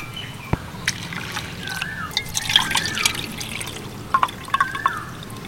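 Sago being rinsed in a bowl of water by hand, with soft sloshing, scattered drips and a few sharper splashes at the end, close and fairly quiet with no talk.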